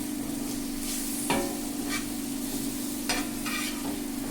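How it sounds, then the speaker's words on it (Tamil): Prawns tossed in a hot tava with curry leaves and coriander leaves, a steady close sizzle and fry with occasional stirring scrapes and clinks, no talking. "அதில் கருவேப்பிலை, தனியா இலை 2யும் போட்டு மறுபடியும் அதை வறுக்கணும்."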